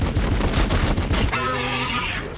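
Gunfire from units in Warhammer 40,000: Battlesector rattles out as a dense, loud volley of rapid shots, followed by a ringing, tonal mechanical whine that trails off.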